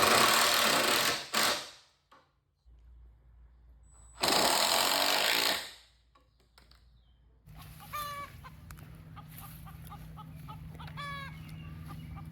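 A power drill drives sheet metal screws into a chicken coop in two loud whirring bursts separated by silence, followed by chickens clucking nearby over a low hum.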